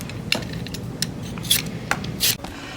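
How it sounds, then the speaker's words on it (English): Potatoes are peeled by hand in a kitchen, with short irregular scraping strokes and faint clicks of blade on skin, close and fairly quiet over steady low room noise. "Potatoes are being peeled."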